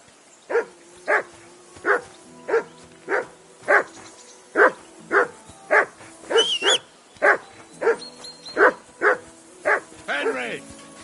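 A dog in the video game Kingdom Come 2 barks about sixteen times in a steady, evenly spaced run, loud and close, ending in a brief whine.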